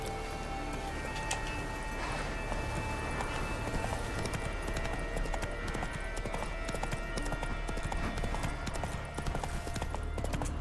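Roach the horse gallops through The Witcher 3, a steady clip-clop of hooves running continuously under a busy game soundscape, with a voice talking faintly at times.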